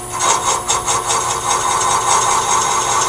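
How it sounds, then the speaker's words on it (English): A skew chisel rounds over the square corner of a wooden workpiece spinning on a lathe, giving a continuous, close scraping hiss with a faint rhythmic pulse from the turning wood. "I'm using the flat of a skew chisel to just radius that over a little bit"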